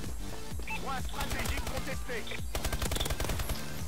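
Rapid bursts of automatic gunfire and single shots crackle in the shooter video game Advanced Warfare, dense and loud, with game effects layered in and a louder volley near the end.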